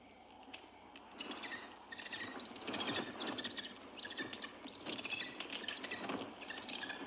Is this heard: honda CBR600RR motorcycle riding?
no